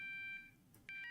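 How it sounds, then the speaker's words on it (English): An alarm in a video game sounds a steady electronic tone that cuts out briefly and then returns at a shifted pitch, quiet and alone. "Why is this alarm like a tune that changes tone like that?"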